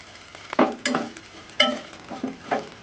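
Semiya payasam being stirred in a bowl over low heat, several distinct scraping knocks of a spoon against the bowl in an uneven rhythm, close and fairly loud.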